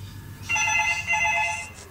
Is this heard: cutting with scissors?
no